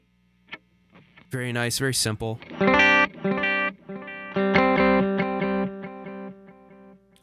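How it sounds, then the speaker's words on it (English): Meris Mercury X delay effect set with two of its ten taps, an instrument's notes echoing in repeated, sustained layers that swell and trail off, with a brief spoken comment near the start. "I'm just using 2 of the 10 taps to get my really cool sounding delay"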